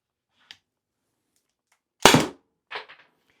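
Shots from a Byrna less-lethal launcher: a loud, sharp pop followed by a second quieter crack, with a faint click earlier, fired alone without talk.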